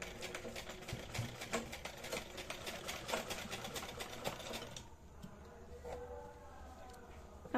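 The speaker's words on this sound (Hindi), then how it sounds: "यहाँ पे हम इसे सिल देंगे, थोड़ा हम इसे टाइटली सिल लेंगे" A sewing machine stitches fabric for a hair bow, its fast rattling needle running steadily for about five seconds before stopping. A soft voice talks quietly underneath.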